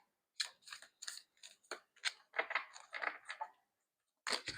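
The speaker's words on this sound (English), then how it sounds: "I'm gonna keep shuffling." Tarot cards shuffled by hand in a run of crisp, rapid riffling bursts with short pauses between, fairly close and clear, with a final burst after a brief silence.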